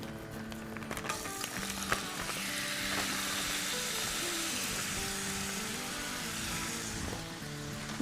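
Chicken fries in hot oil in a pan with a steady, dense sizzle that holds at an even level throughout, with a few light clinks early on.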